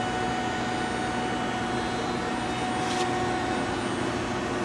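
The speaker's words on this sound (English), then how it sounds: "Go over here and show you that there's the high pressure coolant." High-pressure coolant system on a Citizen M32 CNC Swiss-type lathe, giving off a steady, even hiss and whine with no breaks, faint and continuous throughout.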